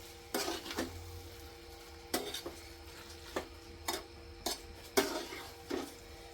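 A spoon scrapes and taps against a pan while pizza bhaji is mixed, giving a string of separate clinks and scrapes at irregular intervals, close and fairly quiet, with no talking.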